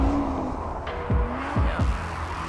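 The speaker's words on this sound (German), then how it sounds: "also ein Philipp Kess kann auch einen Audi driften, wie wir wissen oder wie wir sehen" Audi RS 3 drifting at low speed, with rising tire squeals in several short bursts over steady engine noise, loud and close.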